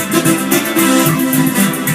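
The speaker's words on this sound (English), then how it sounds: "I added on track 13 and 14 what I call a pulse" A pulsing synth layer in a dance-music style accents the rhythm inside a full, dense pop mix, with steady repeating beats and sustained tones throughout and no talking.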